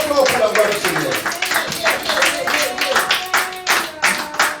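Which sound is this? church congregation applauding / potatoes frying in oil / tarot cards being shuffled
church congregation applauding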